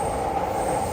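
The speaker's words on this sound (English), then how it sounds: "here's the Yamanote line train" A Yamanote Line train passes in Tokyo, a brief, steady rumble with a sustained metallic whine, close and loud throughout the short moment.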